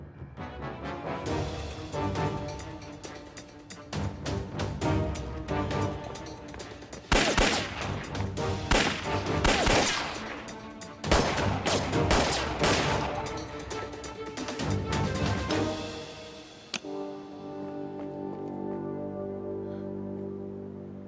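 Gunfire erupts in a period action drama set in old Shanghai: long, loud volleys of rapid shots and bursts, with brief pauses between sustained barrages, before fading to a lower rumble at the end.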